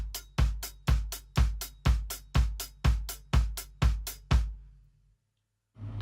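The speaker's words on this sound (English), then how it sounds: "we have 4 on the floor, quarter notes in the bass drum, and the off the beat eighths happening" Drum pattern of a steady four-on-the-floor bass drum on quarter notes with off-beat eighth-note hits between, about ten even pulses played alone, then stopping into a brief silence before another sound begins at the end.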